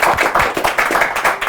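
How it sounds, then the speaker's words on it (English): A small audience at a Kenyan talk show claps for guests, a close, loud burst of hand claps in a quick, uneven rhythm lasting just over a second. "Let's clap for them."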